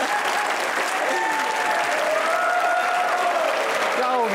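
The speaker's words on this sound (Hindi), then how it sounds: "तुम लोग ऐसे बिलाजे में मत तालियां बजाना शुरू कर दिया करो" A studio audience claps at a comedy talk show, a dense, steady burst of applause lasting several seconds with some whistles and cheers mixed in.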